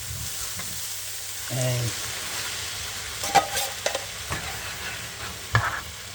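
Two garlic cloves frying in a pan, a soft steady sizzle running throughout, with a brief louder burst early on and a few clinks and scrapes of a utensil; one short spoken word.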